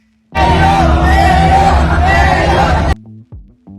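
A crowd at the Philippine Arena shouts and yells loudly together for a few seconds, then the roar cuts off abruptly, leaving quieter scattered sounds.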